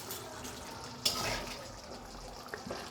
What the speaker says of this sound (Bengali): আর সামান্য একটু গরম জল দিয়ে দিছি মাংসটা ভালো করে কষানোর জন্য।